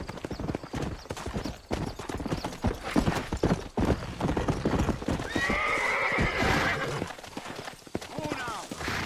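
Horse hooves clip-clop steadily in the Western video game Red Dead Redemption, with a horse whinnying partway through and character voices talking over the riding.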